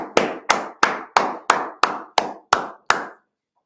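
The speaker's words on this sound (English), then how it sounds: "Clap it up." Nine slow, evenly spaced loud claps, about one every third of a second, close and sharp like a small group clapping in unison at a Wednesday law class, ending in silence.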